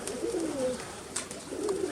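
Young pigeons in a loft in May coo softly in low, wavering tones, with a few faint chirps and rustles over the top, close by and continuous.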